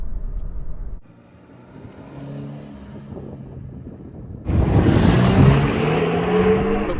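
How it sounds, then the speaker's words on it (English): A Toyota GT86 TRD with its boxer engine, driving: faint wind and road noise at first, then the engine swells loudly with a rough, rising drone that carries to the end. "the engine sounds a bit agricultural"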